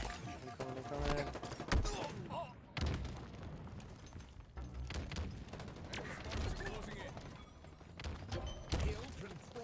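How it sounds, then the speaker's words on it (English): Grenade explosions in the Halo video game: dense, repeated booms and rattling gunfire bursts crowd a busy battle mix, with thuds landing every second or two and voices talking underneath. "there's a lot of grenades popping off"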